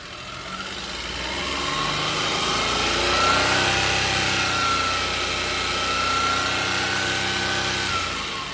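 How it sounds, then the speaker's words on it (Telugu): A 2005 Maruti Alto LXi petrol car engine idles with a steady hum and constant drone throughout, loud and close, swelling slightly in the middle, with no talking. "ఇప్పుడైతే మీకు ఒకసారి ఇంజన్ స్టార్ట్ చేసి చూపిస్తాను"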